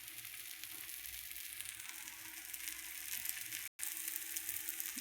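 Dosa-style batter sizzles steadily on a hot pan, a continuous close hiss and crackle that runs almost unbroken, with one brief silent gap near the end.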